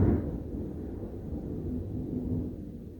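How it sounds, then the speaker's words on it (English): Thunder from a thunderstorm outside, a low, steady rumble heard from indoors that rolls on for the whole stretch at moderate loudness and fades slightly at the end, with no talking. "There's a thunderstorm outside, bro."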